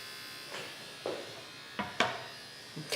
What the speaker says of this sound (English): it's just spinning that thing around using centrifugal force to dry it